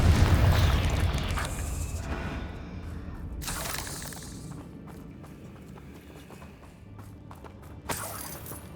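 Fire-spell explosions from the Confringo charm in the video game Hogwarts Legacy burst as a couple of booming blasts over busy game sound effects and thudding movement.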